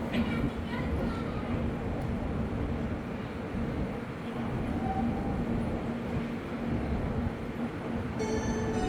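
A steady, loud rumble of the Maharashtra Sampark Kranti Express rolling into a station platform in India, continuous rail noise throughout with a faint squeal near the end.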